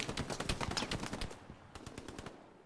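Rapid bursts of machine-gun fire in the Hell Let Loose World War II shooter, fired blindly into smoke around Sainte-Mère-Église: a dense, loud rattling volley, then a quieter second burst after a brief pause, with no talking.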